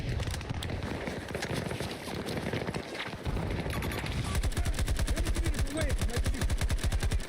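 Sustained automatic gunfire in the shooter Battlefield 2042, a rapid, even rattle of close shots that grows louder and more regular after a short pause, over constant battlefield noise.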